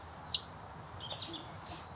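Short, high, thin whistled chirps and trills come in irregular bursts, a twisted bird-call device imitating a European robin's song, close by with quiet background.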